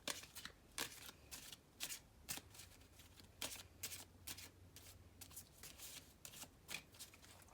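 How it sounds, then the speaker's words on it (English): A deck of playing cards is shuffled repeatedly on a table during a card trick, giving bursts of crisp riffling and flicking at an irregular rhythm, close and fairly quiet, with no talking. "Then I'm going to shuffle the deck again."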